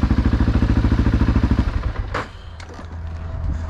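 A motorcycle with a newly fitted exhaust idles with a deep bass, rapid even pulsing, then the rhythm breaks off into a rumbling, clattering lower idle, close and fairly loud.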